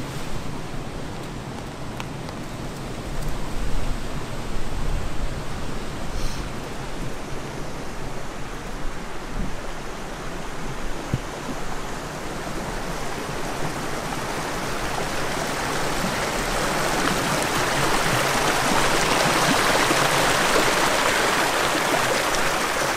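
Heavy rain falls at a hammock wild camp in the Scottish Highlands, a dense broadband hiss of downpour that swells steadily louder toward the end, with no voices.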